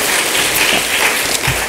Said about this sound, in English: I would like to give a huge round of applause to everyone, please